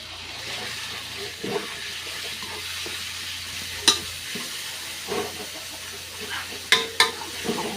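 Chopped bird meat stir-fried with holy basil in a pan, a steady hiss and sizzle with occasional scraping stirs and a few sharp metallic clanks of the utensil.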